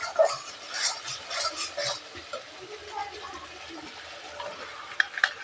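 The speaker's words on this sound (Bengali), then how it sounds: "মশলাটা কষানো হয়ে গেছে, এবার ডালটা ঢেলে দিই।" Cooked dal is poured into a pan of fried spice paste, bringing a wet, bubbling splash and rustling stirring sounds up close, then a quieter simmering sizzle with a couple of small clinks at the end.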